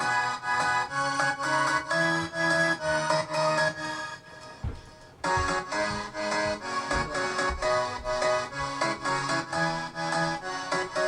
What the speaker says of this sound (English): let's move over to the next piano that we use, and that's the Nexus piano.